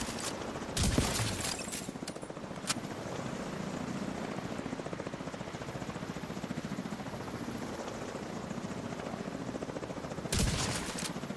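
A helicopter's rotor drones steadily throughout a Division 2 video game fight, with two brief loud bursts of gunfire fired at it near the start and near the end.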